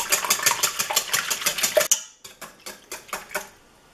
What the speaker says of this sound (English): You just want to scramble them up good.